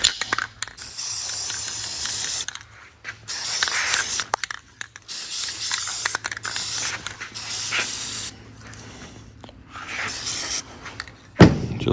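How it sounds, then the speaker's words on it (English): An aerosol spray paint can hisses in several long bursts separated by short pauses onto rusty parts of a 1964 Ford Galaxie, close and loud, ending with a clunk. "But this has some rust, so I'm just going to spray it."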